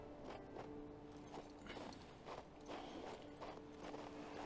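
Horse hooves clip-clopping in the video game King's Bounty 2 after the rider whistles, a quiet, even walking rhythm of soft hoof falls repeating for several seconds.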